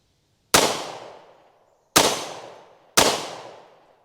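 Three sharp pistol shots from a Staccato CS firing Silver Tip ammunition, loud and close, each a sudden crack with a decaying tail, the first alone and the last two spaced about a second apart.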